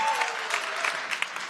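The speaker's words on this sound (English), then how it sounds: "Let's keep a round of applause going." Audience at a startup pitch competition event applauds steadily, a dense wash of clapping that holds level through the short moment with a few sharper claps near the end.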